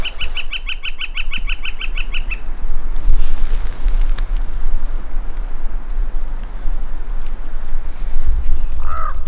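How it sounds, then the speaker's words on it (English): Loud, busy honking and cawing from a crowd of large birds feeding over animal carcasses near a remote hunting camp, harsh calls overlapping continuously against a steady outdoor rumble. "those birds are already going crazy over there"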